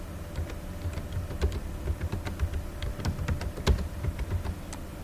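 Typing on a computer keyboard while writing C code, a quiet, irregular run of close clicky keystrokes scattered in quick clusters with brief pauses, heard alone without talk.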